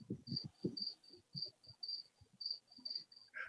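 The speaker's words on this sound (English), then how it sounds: "There's crickets" Crickets or cicadas chirp steadily in a quick pulsing rhythm, thin and high, with soft low tapping and rustling nearby.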